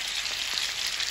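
Chicken skin searing in a hot pan, a steady bright sizzle and crackle close up, brief and alone without any voices.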